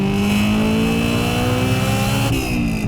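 Toyota AE86 Trueno from the 1980s fitted with a swapped Honda S2000 engine, revving hard with a steady, loud high-pitched engine note that holds throughout, up close with no talking.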